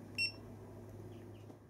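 A Git2 Pro action camera gives a single short, high-pitched electronic beep when its power button is held down, heard close against a low steady hum, followed by quiet.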